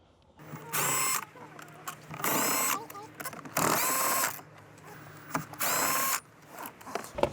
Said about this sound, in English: There's 4 10mm bolts we're going to remove.